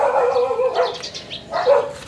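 A dog barks at close range in a rural garden setting, a few short yapping barks separated by brief pauses, standing alone without talk.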